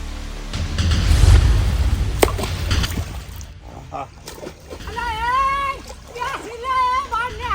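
Children splash about while bathing in a water tank in summer, with loud sloshing early on and high-pitched voices and cries over further splashes later.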